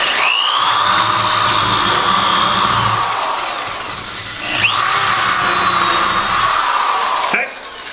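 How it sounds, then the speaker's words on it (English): Power drill pre-drilling a hole in wood while stretching a canvas, a loud steady high whine running continuously, dipping briefly as the bit goes in and out, then stopping abruptly near the end. "So to pre-drill a hole, just go in and out, and when you go in, keep the drill running as you go out"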